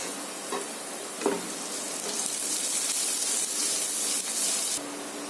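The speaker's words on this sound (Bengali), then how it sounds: "পেঁয়াজটা ভাজা ভাজা হয়ে গেছে, পেঁয়াজ রসুন ভাজা হয়ে গেছে" Onion and garlic fry in a pan, making a steady, rain-like sizzle that swells louder midway, with a few faint clinks from stirring and no talk.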